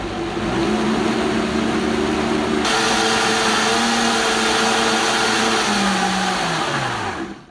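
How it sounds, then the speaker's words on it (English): A blender blends a smoothie with a loud, steady motor whir that runs continuously, its pitch shifting slightly and dipping as it winds down at the end, with no talk over it. "You want to get that blend going back on."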